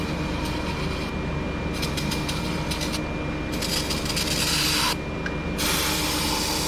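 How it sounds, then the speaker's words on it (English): Brake cleaner hisses from an aerosol can into the oily spark plug valleys of a Chevy 1.8 Ecotec engine, coming as four close, loud bursts of steady spray separated by brief pauses. "I'm going to spray some brake clean down in these spark plug valleys"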